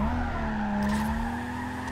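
Tires skid and squeal as a car drifts in Need for Speed Carbon, a sustained screech over a steady engine drone lasting about two seconds with no one talking.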